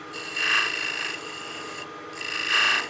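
A wood lathe makes small V-cuts on a mini mushroom Christmas ornament, two raspy scraping passes swelling and fading with a short quieter gap between, close and fairly loud with no talk.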